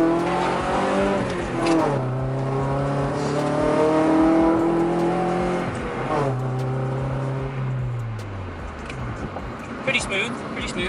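A Honda H22A engine in a car pulls through the revs from inside the cabin, rising and falling with uneven surges, dips and hesitations, steady and moderately loud throughout.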